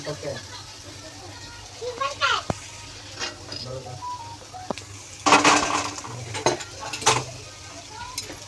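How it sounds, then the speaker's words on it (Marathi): Cooked noodles for veg noodles being stir-fried in a hot pan, sizzling throughout with scraping and clinking of a utensil against the pan in bursts, close and loud. "मग आता आपण हे नूडल्स टाकलेले ते पण आपण चांगले परतून घेऊया."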